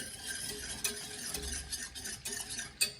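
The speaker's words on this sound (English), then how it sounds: "Now make sure you stir it, because you don't want it to stick to the bottom of the pan" A spoon stirs a mixture in a pan on the stove while making crispy fried chicken, giving a soft, continuous scraping and light sizzle at a low level with a few sharper knocks of utensil against the pan.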